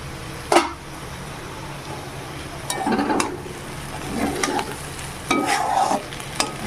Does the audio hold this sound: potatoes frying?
yes